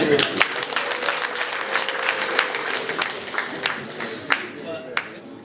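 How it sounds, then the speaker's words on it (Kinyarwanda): A gathering at a Rwandan traditional marriage ceremony breaks into applause, with sharp individual claps standing out over a thinner spread of clapping and faint talk underneath. "amashyi menshi"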